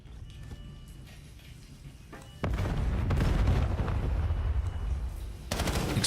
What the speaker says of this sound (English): Explosions ringing out on the other side of the map